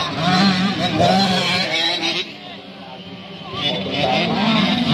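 Racing motorcycles at the start of a children's national championship race in Aceh, engines droning loudly and continuously with rising and falling revs, a crowd and voices audible underneath throughout.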